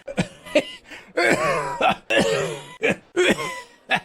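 A voice imitates a raspy cackle that breaks into a series of harsh coughs and throat clearing, close and loud.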